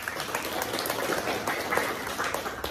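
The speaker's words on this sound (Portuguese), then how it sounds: "Palmas com a sua amiga." Audience applause at a motivational seminar, a fairly soft, steady patter of many hands clapping together that holds evenly for a few seconds without any talk over it.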